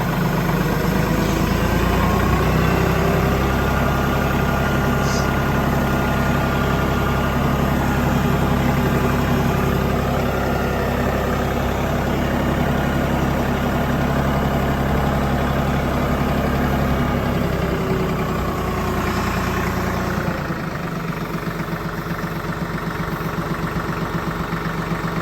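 A new Branson 2515H compact tractor idles steadily nearby, a continuous low diesel drone with a faint high whine that drops slightly toward the end.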